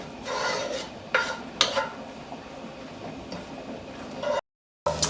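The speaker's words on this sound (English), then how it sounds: "So we're gonna fry this garlic until it's fragrant, golden, brown, delicious." Garlic frying in butter until golden gives a soft, steady sizzle, broken by a few brief scrapes of a utensil stirring it in the pan, then cut off by a short moment of silence.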